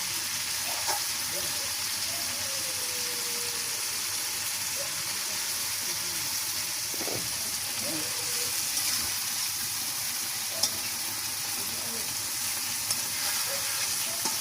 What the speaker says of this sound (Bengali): এইবার আমরা ভেজে রাখা কই মাছগুলো এক এক করে দিয়ে দেবো মশলার ভিতরে